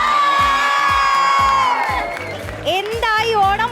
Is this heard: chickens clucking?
no